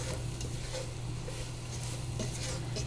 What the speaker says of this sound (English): we're going to put this in with our mixture here and stir it up just like we did the flour